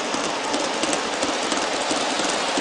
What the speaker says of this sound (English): it's going over the Aristo-Craft Y switch, the number 6Y